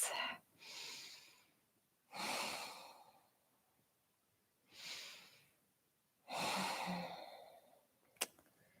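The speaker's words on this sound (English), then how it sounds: "Taking 3 deep life-affirming breaths." Four slow, deep breaths during a yoga class, each a long airy inhale or exhale close to the microphone with quiet gaps between them, ending with a brief sharp click.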